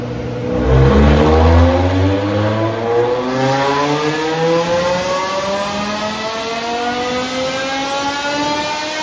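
A car engine roars on a dynamometer, revving loud and close as the pitch climbs steadily through the run, a strong continuous drone with no talking.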